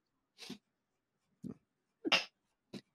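A single person's sneeze in a quiet room during a podcast, preceded by a short breath and a couple of small sniffs, close and sharp, with silence between the sounds.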